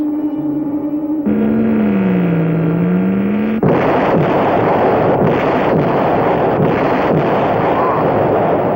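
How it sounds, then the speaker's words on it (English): A sci-fi light ray weapon fires at an asteroid at the edge of the asteroid belt, a loud sustained blast with a wavering tone giving way to a roaring, crackling burst that keeps surging in repeated bursts. "The ray completely powdered that asteroid."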